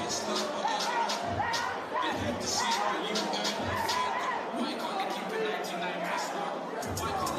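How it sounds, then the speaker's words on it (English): Arena crowd at a boxing match roars, chatters and applauds for a fighter being lifted to his feet, a dense, steady wall of cheering with a commentator talking over it. "So Bouncer's friends lift him up to his feet now to get the acclaim from the crowd"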